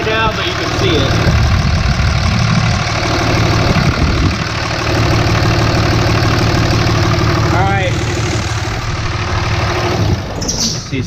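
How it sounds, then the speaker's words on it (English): A diesel engine with blow-by runs steadily, fairly loud and close, with a rough mid-low rumble and some knocking throughout; people talk over it at times. "So see, can you start it up, Aaron?"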